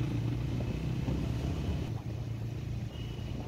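A motorbike is ridden at speed on a Konkan road near the Kashedi Tunnel, with a continuous close engine drone and rushing wind roar that stay steady and unbroken.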